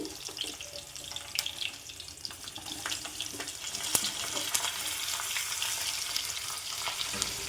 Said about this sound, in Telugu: కాకరకాయలు కొంచెం రంగు మారే వరకు ఫ్రై చేసుకోవాలండి.